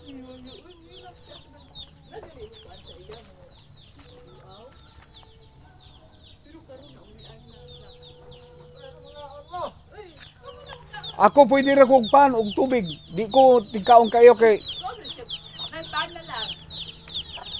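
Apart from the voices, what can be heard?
chickens clucking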